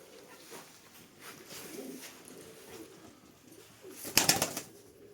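Pigeons coo faintly in the background with low, soft calls, followed by a short, sharp burst of noise near the end.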